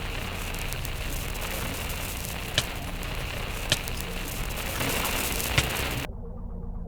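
Steady hissing static in a Minecraft horror puzzle map, a dense, even wash of noise with a few faint clicks. It cuts out abruptly near the end, leaving a low, muffled background.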